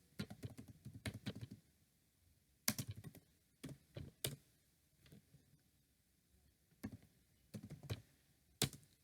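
Typing an IP address on a computer keyboard, quiet close-up clusters of key taps in irregular bursts with short pauses between them.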